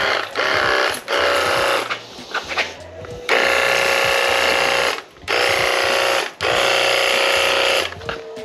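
A portable jet cleaner sprayer for washing motorbikes and cars, running in loud, steady bursts, with short pauses between sprays and a constant motor whine.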